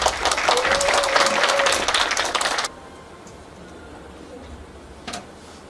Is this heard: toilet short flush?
no